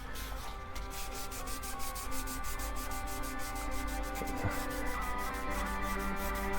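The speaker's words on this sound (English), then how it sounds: "I'm just only sanding the dirty, crappy part." An ESP LTD MH-100 guitar body is sanded by hand, a steady rapid scratching rub with a regular back-and-forth rhythm, close and continuous.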